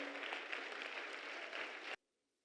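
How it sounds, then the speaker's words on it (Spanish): A church congregation claps strongly during a sermon, a steady, full burst of applause that cuts off abruptly into near silence. "Dale un fuerte aplauso al Señor."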